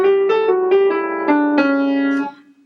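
Solo piano plays a short Lydian dominant jazz lick from a tutorial, a quick run of about eight clear, loud, close notes that ends on a held tone and fades out alone.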